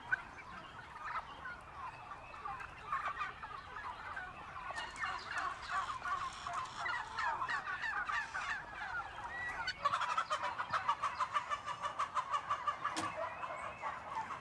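A flock of farm turkeys gobbles and clucks continuously at a distance, with bursts of massed gobbling rising and falling over steady low background noise.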